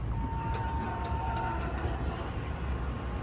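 A severely aged Dover Impulse hydraulic freight elevator runs in a shopping promenade, giving a loud, steady low rumble with a faint tonal hum throughout.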